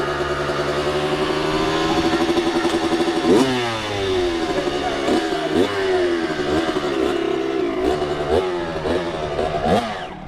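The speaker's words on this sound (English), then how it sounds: "Take time and rev it up here." A dirt bike engine on a Jamaican street revs up and down repeatedly, loud and close, its pitch rising and falling in quick throttle blips with no talking.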